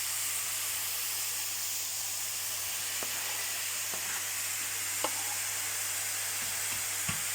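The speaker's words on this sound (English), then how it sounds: "Fry these off for a couple of minutes until they start to go brown." Onions fry with browned beef mince in a pan for chilli con carne, a steady soft sizzle and hiss broken by a few light clicks and taps of stirring.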